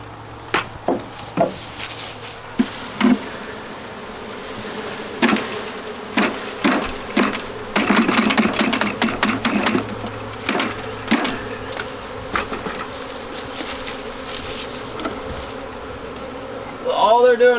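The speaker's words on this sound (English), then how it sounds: "So they are going to start buzzing" Bees knocked down into a hive box buzz in a loud, close swarm, with sharp wooden knocks and thuds from the box sounding through the drone.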